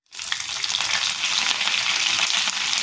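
Curry leaves dropping into hot oil with frying urad dal and mustard seeds, a sudden loud crackling sizzle that bursts in and then holds steady and dense to the end.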